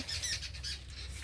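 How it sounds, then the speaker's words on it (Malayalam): A single bird lets out a brief, harsh squawk, close by and fairly loud. "ഇതാ ഒരു കിളി വന്നിരിക്കുന്നു വട്ടക്കിളി"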